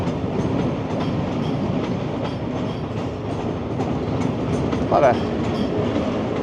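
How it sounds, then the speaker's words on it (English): A Via Rail passenger train passes through downtown Toronto on a winter morning, a steady broad rumble with rhythmic clickety-clack of wheels on rail joints lasting throughout, with traffic noise mixed in. "There goes a Via train, probably off to Windsor"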